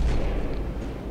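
Weapons fire in the mobile game Call of Duty Heroes, a brief heavy boom with a rumbling low tail, close and loud, with no voices.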